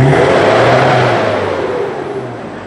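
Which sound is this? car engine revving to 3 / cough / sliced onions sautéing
car engine revving to 3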